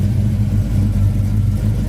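A Chevrolet Chevelle with a dual exhaust system idles close by, a deep, steady engine rumble with a slight rhythmic pulse and no voices over it.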